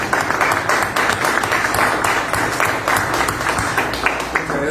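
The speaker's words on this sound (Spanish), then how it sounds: "Un fuerte aplauso para él." Guests at a book presentation give a loud round of applause for the maestro Felipe Guevara Morán. The clapping comes close and dense, with sharp individual claps standing out and a few voices faintly mixed in.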